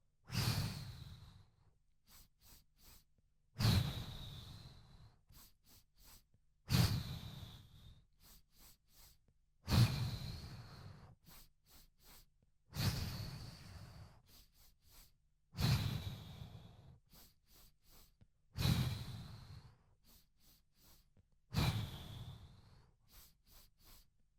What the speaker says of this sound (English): So 3 inhales, 1 exhale.